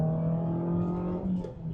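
A Mazda Miata MX-5 ND Club Sport engine pulling hard at full throttle, a strong steady drone with rising harmonics that holds close and loud throughout the short burst, with no talking.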